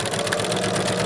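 A sewing machine stitches quilt block seams for a Christmas pillow, a steady close mechanical whir with fast needle rhythm running throughout the brief moment.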